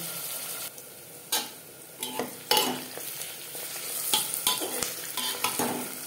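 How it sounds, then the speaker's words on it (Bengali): Sliced onions lightly fry in hot oil for mutton biryani, a steady sizzle broken by sharp scrapes and knocks as a utensil stirs them in the pan, close and with no voices. "পেঁয়াজ হালকা করে ভেজে নেব"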